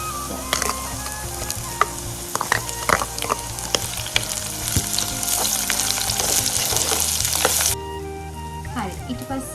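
Onions fry in a pan of hot oil with a steady sizzle, broken by scraping and stirring clicks, until the sizzle drops off sharply near the end.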